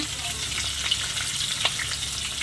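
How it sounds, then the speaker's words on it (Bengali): Fish fries in oil in a pan for a home-cooked fish curry, giving a steady close sizzle with small crackles and pops throughout. "এদিকে মাছ ভাজা হচ্ছে"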